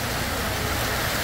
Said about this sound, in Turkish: Ve yağmur daha da arttı.